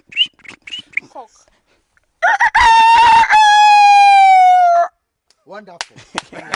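A man imitates a rooster crowing with one loud, drawn-out cock-a-doodle-doo that holds its pitch and then falls off at the end, with short bursts of talk before and after.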